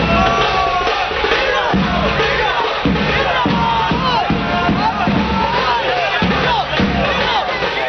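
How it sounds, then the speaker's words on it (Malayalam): A crowd cheering and shouting at an Onam celebration in Tirur, welcoming a wheelchair-bound Maveli, with loud continuous whoops and battle-cry style yells mixed with babbling voices throughout. "ആർപ്പും ആരവങ്ങളുമായുള്ള ആഘോഷത്തോടെ മാവേലിക്ക് വരവേൽപ്പ്"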